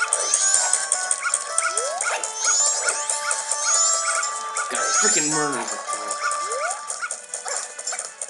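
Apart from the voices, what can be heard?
dog barking in the video game Zelda: Majora's Mask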